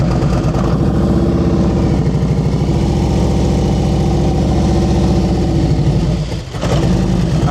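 Motorcycle engine during advanced slow speed riding practice, a loud close steady chugging idle with slight throttle changes and a brief dip near the end, no talking.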